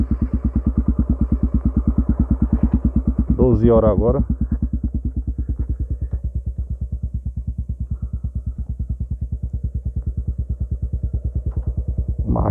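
A Honda Tornado 250 motorcycle engine idles steadily with a fast, even putter, close by, while someone talks briefly over it.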